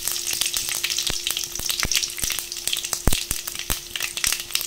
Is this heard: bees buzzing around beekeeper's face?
no